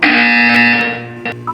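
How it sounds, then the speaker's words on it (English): A loud electronic buzzer blares in the Portal 2 video game, a steady tonal drone held for over a second before breaking into short bursts. "When you hear the buzzer, look down at the floor."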